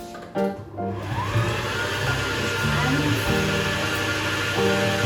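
Cake sponge batter with softened butter being mixed in by an electric mixer, a steady close whirring drone running throughout with slight shifts in pitch as the beaters work.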